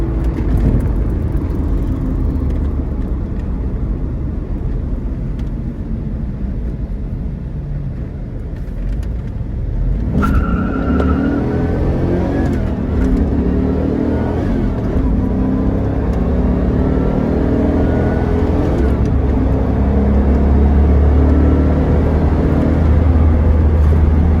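Heard from inside the cabin, a stock LT1 Trans Am with a T56 manual transmission and freshly swapped clutch rumbles low, then pulls harder with a deeper, building engine roar that grows loudest toward the end.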